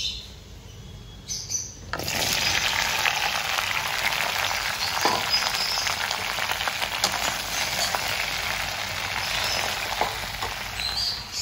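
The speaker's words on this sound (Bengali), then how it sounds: "আর এই ভেন্ডি ভাজাটা এখন আমি এইখানে ছেড়ে দেব" Okra (bhindi) dropped into a hot pan to fry in a home kitchen, bursting into a loud, steady hiss and sizzle after a quiet start and continuing without a break.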